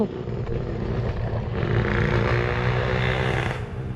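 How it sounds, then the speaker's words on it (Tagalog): A loud boat motor with no muffler runs steadily during a fishing trip after needlefish, a harsh continuous engine roar that swells partway through before easing off. "motor walang tambotso"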